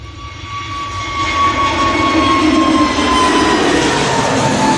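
An EasyJet A320neo jet runs past at Manchester Airport with a steady, loud engine roar and a distinct high whine, close and sustained, with no voices.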